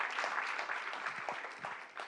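A crowd at a political rally claps steadily, a soft, distant patter of many hands continuing without a break.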